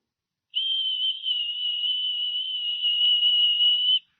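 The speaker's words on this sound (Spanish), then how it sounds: "Un silbo apacible y quieto, y ahí estaba Dios." A gentle, quiet whistle sound effect plays in a sermon: one thin, steady high tone that starts abruptly, holds evenly for about three and a half seconds, then stops. No one speaks.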